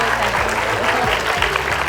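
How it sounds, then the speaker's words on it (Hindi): Brief burst of crowd clapping for a celebrity guest at an event, dense and close, with voices and a low tonal hum running underneath. "उनके लिए तालियां बजाओ"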